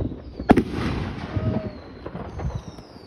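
A sharp Fourth of July firework bang up close, followed by crackling and rumbling pops fading into a windy outdoor background.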